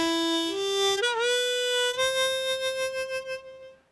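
A C harmonica plays three ascending notes of the lower-octave major scale on holes 1 to 3, clear sustained tones heard alone, the last note ringing out and fading.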